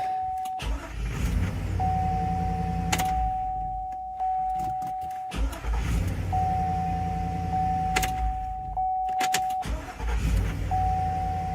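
A 2002–2005 Chevy Suburban after a starter motor replacement cranks and fires up, with engine rumble running steadily through the clip, broken by a few brief dips and knocks, along with a steady electronic tone.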